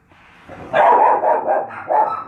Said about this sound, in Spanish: acá tuvimos un ladrido de perro